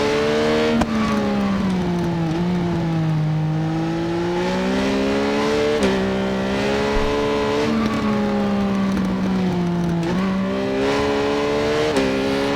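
A 2017 Triumph Daytona 675R sport bike screams around Laguna Seca in the RIDE 4 racing game, its engine note loud and close, rising through the revs and dipping briefly at gear changes and corners, with no talk over it.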